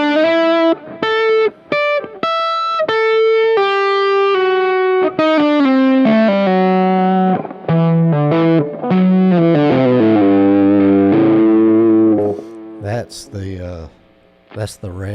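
Distorted electric guitar through a tube amp's red channel plays a melodic run of sustained notes and bends, loud and close, with brief pauses between phrases and a noisy tail at the end.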